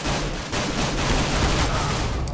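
Rapid bursts of gunfire in Counter-Strike: Global Offensive, loud and dense, with repeated shots running through the whole stretch and no pauses.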